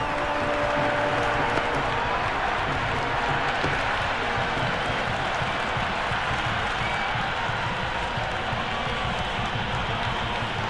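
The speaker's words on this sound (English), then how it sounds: "the crowd have joined the party. It's pretty noisy at the ground." A large cricket stadium crowd at an India versus England match roars and cheers steadily, a dense continuous wall of noise with clapping mixed in, loud throughout.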